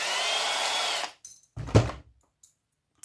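A power tool backs screws out of a scrapped power supply board: a steady, loud whirring drill run for about a second, then it stops, followed by a few short knocks and clunks of parts being handled nearby.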